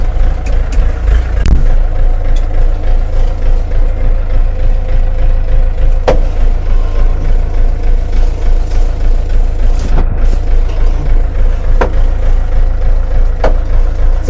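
Kentavr 504 FC mini tractor engine running steadily and loud up close as the tractor moves off, with a constant low rumble and a few faint clicks and knocks.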